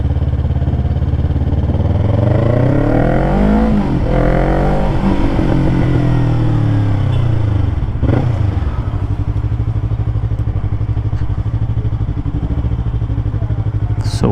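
An RS 457 motorcycle with a full exhaust system revving loudly at close range in a second-hand superbike showroom, deep engine drone rising and falling in repeated throttle sweeps, with a sharp blip near the middle.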